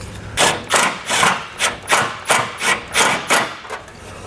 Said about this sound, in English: you scrape off this coating that's on the frame rail, make sure you're going to have good metal-to-metal contact